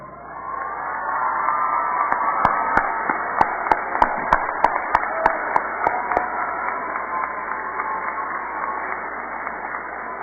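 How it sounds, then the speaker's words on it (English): A crowd gives a sustained round of applause at a spring university commencement for graduate degrees: a wide, continuous wash of many hands clapping in a large hall, with a few sharper individual claps standing out partway through. "give your support system your best round of applause for their help"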